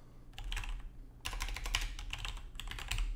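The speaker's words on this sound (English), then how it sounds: "all you do is type in whatever your prompt is" Rapid clicking keystrokes on a computer keyboard in bursts, a short pause after the first flurry and then faster continuous typing, close and clear with no voices.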